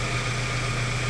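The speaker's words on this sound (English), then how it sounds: "the car right now is warm up, so until the idle is steady to see if the engine is shaking" A 2.7-liter four-cylinder engine in a 1996–2004 Toyota Tacoma idles steadily after warm-up, a constant low hum with a sustained mid-pitched whine, close by and even throughout with no talk.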